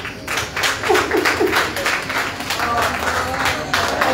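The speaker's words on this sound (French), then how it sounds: "je vais vous demander d'applaudir chaleureusement Madame Laïkati Ilman" An audience claps warmly to welcome a woman at a formal event, a fairly close, uneven patter of many hands with distinct individual claps, and a voice briefly heard under the applause.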